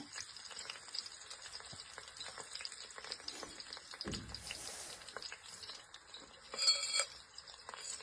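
Chopped onion and curry leaves frying in oil for a masala egg biryani, a steady close sizzle with occasional stirring clinks and scrapes, and a brief louder burst near the end.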